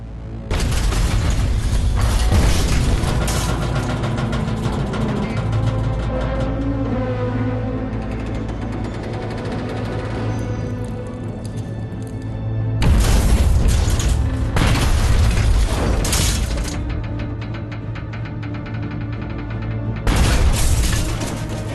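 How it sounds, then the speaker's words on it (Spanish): Repeated depth charge explosions going off close to a submerged World War II submarine at about 45 metres, loud deep booms with rumbling aftershocks and metallic rattling, in three heavy bursts separated by quieter reverberating stretches. "Explota una carga de profundidad más."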